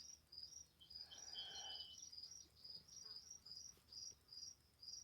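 Crickets chirp in a steady, pulsing high-pitched rhythm against a quiet night background, with a soft brief buzz near the start.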